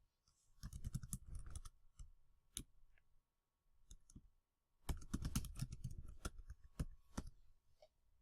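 Typing on a computer keyboard, quiet close clicking in two quick bursts of keystrokes with a short pause between and a few isolated taps.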